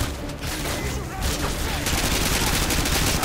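Rapid, dense gunfire from a Modern Warfare 2 firefight, bursts of automatic fire and shots packed close together at steady loud level throughout, with some voices faintly underneath.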